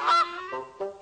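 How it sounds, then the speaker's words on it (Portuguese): A goose honks loudly and close by in a children's cartoon, one long nasal honk followed by two shorter calls in quick succession, with no other sound around it. "e um ganso."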